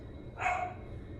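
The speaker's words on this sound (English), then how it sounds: "And what is she barking at?" A single short bark from a female dog indoors, brief and moderately close, standing out over a quiet room.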